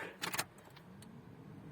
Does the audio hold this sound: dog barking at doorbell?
no